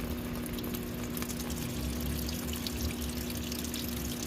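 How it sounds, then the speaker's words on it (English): Thin, gas-diluted engine oil drains steadily from a Cub Cadet tractor engine, giving a continuous close liquid pouring and splashing sound that stays even throughout, with no talking. "we're draining the oil, and look how it's running out like water"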